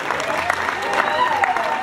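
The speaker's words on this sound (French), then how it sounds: "On applaudit cette famille qui vient de s'exprimer." A wedding party in a reception hall applauds the family: sustained, even clapping from many guests, with murmuring voices underneath.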